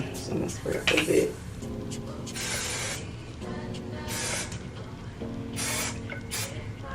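A spray can hisses out several short bursts during a makeup routine, with brief pauses between them and some light clattering of items nearby.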